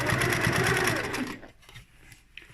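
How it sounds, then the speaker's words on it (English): Sewing machine running a lengthened top stitch around a lined tote bag, a steady close whirring hum for over a second before it stops and leaves quiet rustling handling noise. "I am going to make my stitch a little bit longer for my top stitching."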